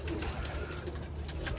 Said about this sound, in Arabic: هاي طير الرامبوري